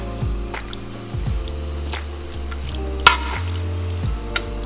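Thick seafood pasta sauce with shrimp bubbling in a pan, with irregular pops and gurgling blips and a clink of a utensil partway through.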